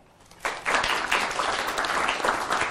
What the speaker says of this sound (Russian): прошу приветствовать их аплодисментами